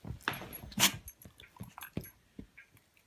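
Soft, irregular snuffles and snorts from a dog close by, short nasal puffs with quiet gaps between them.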